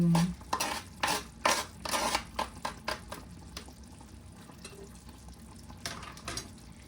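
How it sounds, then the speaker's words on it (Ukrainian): A spoon stirring braised chicken in tomato and sour cream sauce, with repeated soft scraping strokes against the pot, strongest early and fading to a quieter simmer; no talk. "Трішки перемішаємо."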